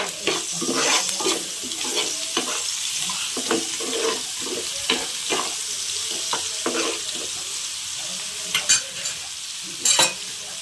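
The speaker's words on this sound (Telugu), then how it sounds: "ఇది బాగా ఫ్రై అవ్వాలి." Sandwich filling of tomato, salt and coriander frying in a pan while a spoon stirs it, with a continuous sizzle and repeated scraping clinks against the pan, close and fairly loud, with no voices.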